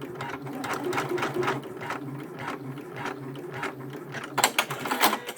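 A Janome MB-series embroidery machine stitching and trimming, with a steady close mechanical whir of needle strokes and gear ratcheting, then a sharper burst of clicks near the end as the trim engages.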